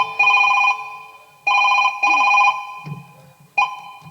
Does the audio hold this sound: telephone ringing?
yes